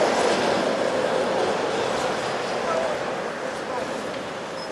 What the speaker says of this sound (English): There's a train, a little metro going through town.